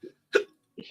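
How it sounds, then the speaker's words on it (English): A single sharp hiccup from a man, short and fairly close, framed by brief vocal sounds before and after. "Yeah, I got the hiccups."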